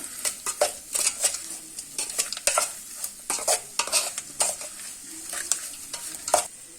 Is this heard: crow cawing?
no